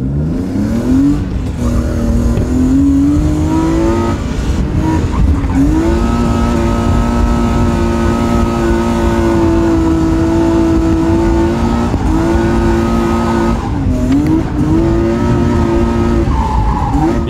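A BMW E30 on a race track, its engine droning loud and sustained with the pitch rising and falling through gear changes and throttle lifts, tires squealing as it slides, with no talk.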